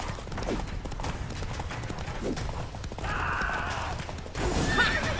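Roach, Geralt's horse in The Witcher 3 video game, gallops with a steady clip-clop of hooves and gives a short whinny near the end amid game sound effects, with no talk over it.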